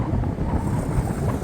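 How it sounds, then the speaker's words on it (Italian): Cold wind gusting on the Portuguese coast, a steady loud roar buffeting the microphone with low rumbling turbulence throughout, no voices. "vento gelido qua in Portogallo"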